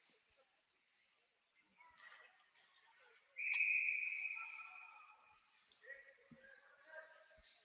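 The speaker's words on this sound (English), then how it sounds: "as the whistle goes with 2:49 to go." A referee's whistle at a pee wee AA ice hockey game sounds one sharp, sustained blast midway through, heard amid faint arena noise and distant crowd voices.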